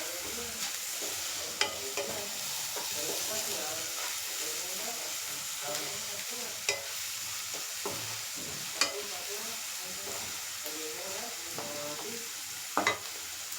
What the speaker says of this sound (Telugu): ఇది ఆనియన్ అది బాగా ఫ్రై అయిపోవాలి.